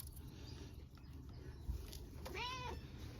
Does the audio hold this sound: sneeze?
no